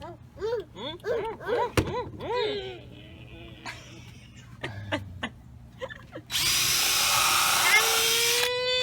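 A power drill whirs in a long, loud, steady burst near the end, driving screws while building custom pond tops. Before it, a child's high babbling and an adult's excited voice chatter over faint background noise.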